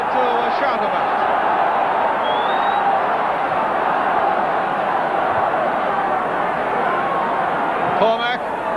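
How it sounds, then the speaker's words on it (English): A 1970s football crowd at an Arsenal match roars steadily after an Arsenal goal, a dense, sustained wall of cheering throughout with no break. "Now that's plenty for the crowd to shout about."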